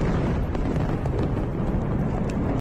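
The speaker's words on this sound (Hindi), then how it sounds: "वहां एक जोरदार धमाका हुआ।" A rocket strike's blast in a war zone, heard as a loud, dense roar of rumbling low-end noise that holds steady for a couple of seconds before cutting off abruptly, with no speech.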